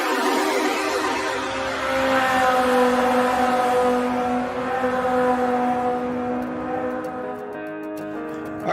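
Racing car engines from the video game Supercar Street Racing, a loud sustained revving drone that holds steady and shifts pitch, with clicking noises near the end.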